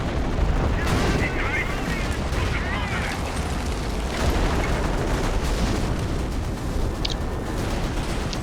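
Howitzer artillery barrage in the strategy video game Company of Heroes, Operation Market Garden 3v3, a dense continuous rumble of shelling and explosions filling the whole stretch with steady loudness, with faint talk underneath.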